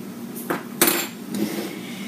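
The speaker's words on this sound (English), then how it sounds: "I'm just going to give it a little bit of a stir" A utensil stirs salt into homemade mustard, a few distinct clinks and scrapes against the container, close and fairly loud, with one sharper knock midway and no speech.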